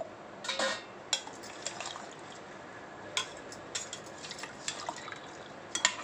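Water splashes and trickles into a pot of paneer biryani on the stove, a soft close pour with scattered drips and light clinks of utensils against the cookware.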